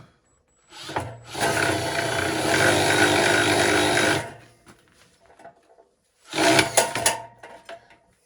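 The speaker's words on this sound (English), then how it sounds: "Then you press on the drill." A power drill used to strip sheathing from wire runs with a rough, grinding whir for about three seconds, stops, then briefly spins up again in a short burst.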